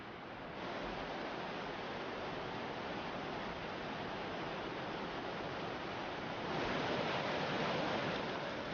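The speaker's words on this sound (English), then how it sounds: "their next challenge is a flooded river" A flooded river rushes loudly and continuously through a rocky gorge in a steady broad roar, swelling slightly toward the end.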